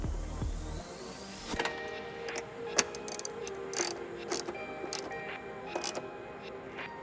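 Ratcheting wrench tightening a ground wire bolt near the fuse box of a Toyota hybrid, heard as a series of close, quick mechanical clicks and metallic ticks with short pauses between bursts.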